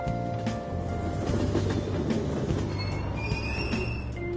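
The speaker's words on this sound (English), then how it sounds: "Train doors are now closing." An in-game subway train at Aoyama Itchome station closes its doors and pulls away from the platform, a steady rumble of wheels and motors with high, thin squeals from the rails, no voices.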